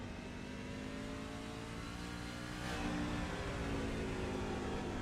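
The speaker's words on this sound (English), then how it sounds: "This truck is loose, folks, and listen, barely even able to start picking up the throttle." A super truck in a racing series, heard onboard, holds a steady droning engine note that swells slightly partway through, continuous and close, with no talk.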